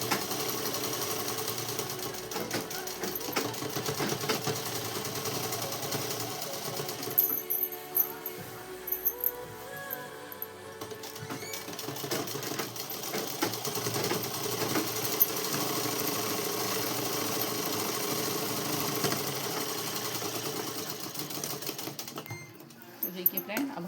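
A sewing machine stitches a shalwar with a continuous rapid mechanical chatter that briefly slows near the middle, recorded close with some background noise.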